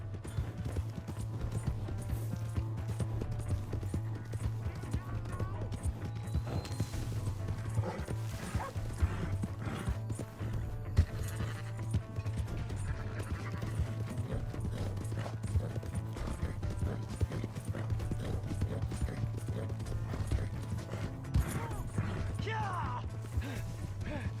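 Steady clip-clop of horse hooves at a gallop in the video game Red Dead Redemption 2, over a constant low rumble, with occasional whinnies and thuds mixed in.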